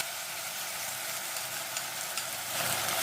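Onion and capsicum fry in a pan with a sauce mixture, giving a steady soft sizzle that swells slightly at the end, with no talking.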